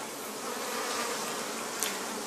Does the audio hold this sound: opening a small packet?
no